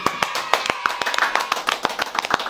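Scattered clapping comes from a small seminar audience, a run of crisp, fairly close hand claps in an uneven rhythm, with no voices over them.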